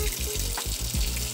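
Water running into a cup for cream of rice, a short burst of splashing and gurgling flow with a rhythmic pulsing pattern, close and moderately loud, with no speech.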